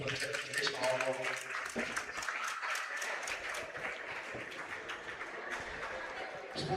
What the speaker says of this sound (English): Let's give both teams a big round of applause